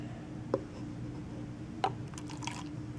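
Two sharp clicks, then Samuel Adams Rebel IPA beer pours and fizzes into a glass in a brief, close gurgling rush near the end.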